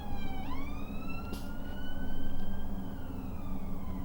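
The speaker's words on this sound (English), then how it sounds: "I think you guys can hear the sirens." A siren wails continuously, its pitch sweeping up and then holding high, fairly close over steady traffic rumble.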